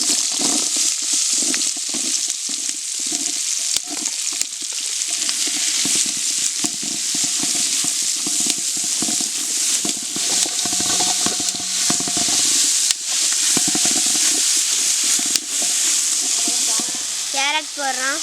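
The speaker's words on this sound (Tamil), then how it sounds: "வெங்காயம் போடுறோம்." Sliced onions fry in hot oil in a pan for a pasta dish, a loud, steady sizzle heard up close, broken by the scraping and clacking of a spoon as the onions are stirred.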